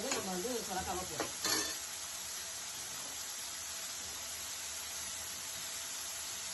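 Chopped bottle gourd hits hot oil with browned garlic in a pan, a steady loud sizzle and hiss that carries on alone after a brief scrape of stirring and a short voice at the start.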